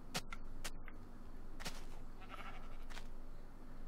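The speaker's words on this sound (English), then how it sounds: "So this is how sheep look" Sheep bleating in Minecraft, a few short faint bleats scattered over soft background noise, with sharp clicks around them and no talking.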